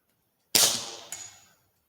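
A tuned Gamo Urban air rifle fires once with a sharp, loud crack, followed about half a second later by a fainter snap of the pellet striking a clay jar at 100 yards, then a brief fading tail.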